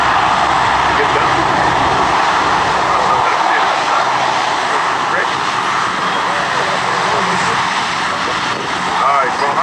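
A B-17 bomber drones overhead at an airshow, a continuous loud propeller-engine roar that holds steady while an announcer talks over it.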